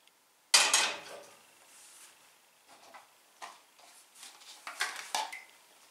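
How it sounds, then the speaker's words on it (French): A metal pot clanks loudly once, then quieter knocks and scrapes of cookware follow intermittently, close by with no talking. "Une casserole avec de l'eau"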